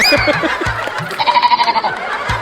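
A sheep bleating sound effect in a TV comedy show, a loud, close series of wavering, nasal bleats with a trembling vibrato in the longer call.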